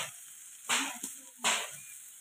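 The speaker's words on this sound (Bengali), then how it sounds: "এবার আমি একটু এরকমভাবে 2-1 মিনিট নাড়াচাড়া করে নামিয়ে" Taro leaves with prawns stirred in a wok as the water cooks off, a soft sizzle broken by three scraping bursts of the spoon, faint and close.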